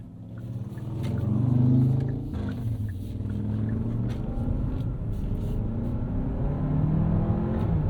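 A 2024 Hyundai Santa Fe SUV engine drones and builds steadily as it accelerates under about 70% throttle, heard from inside the cabin with a low rumbling hum.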